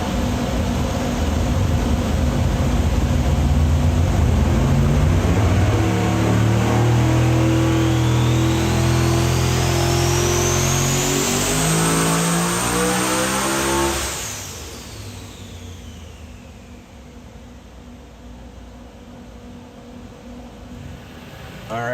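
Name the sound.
car engine revving on a dyno, hitting the rev limiter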